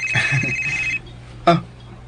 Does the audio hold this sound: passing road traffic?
no